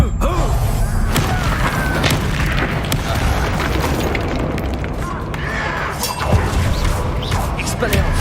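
Spell impacts in Hogwarts Legacy combat, loud booming crashes and thuds packed densely over the whole stretch, with game voices speaking throughout.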